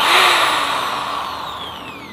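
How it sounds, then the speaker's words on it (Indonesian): An NRT Pro 500HD electric hand drill set to forward drill mode runs at maximum speed, giving a loud, steady high whine that drifts slightly lower in pitch over about two seconds, with no voices. "Posisinya sudah drill ya. Kemudian maju, speednya juga sudah bisa maksimal."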